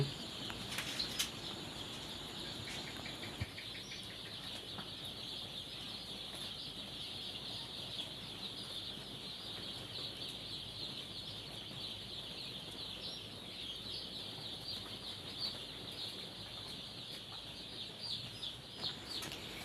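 Hens on a poultry farm cluck and call in a steady, crowded din that lasts throughout, with occasional louder squawks and no talking.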